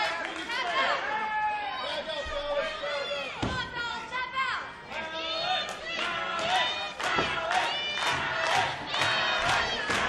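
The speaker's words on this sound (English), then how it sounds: "Crowd coming alive for Andrew Palace." A wrestling crowd at a live match roars and cheers loudly and continuously, with scattered shouts and surges of excitement rising over the din.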